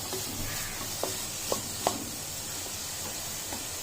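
Vegetables for a veg pizza filling sautéing briefly in a pan, a soft steady sizzle with a few sharp scraping clicks of the stirring utensil, close and fairly quiet, no talking.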